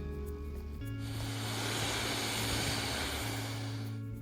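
A medevac aircraft passes over Porphyry Island in Ontario, a steady broadband engine roar with a low propeller drone that swells and holds loud for several seconds, then eases slightly near the end.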